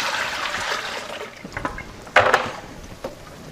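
Sanitizing solution is dumped out of a bucket of pea seeds, starting as a steady rushing pour that thins into splashes and trickles, with a couple of louder sloshes near the end, close by and alone.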